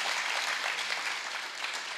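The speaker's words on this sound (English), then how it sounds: "if we're gonna clap, we're all gonna clap" Church congregation applauding together, dense and continuous clapping filling the room at steady loudness, with no talk over it.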